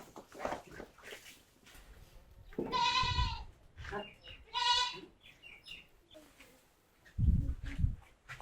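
Goats on a Bangladeshi smallholding, fed silage with grain feed after a day of grazing, bleat loudly in two long, wavering cries near the mic, with someone talking around them and some low handling noise.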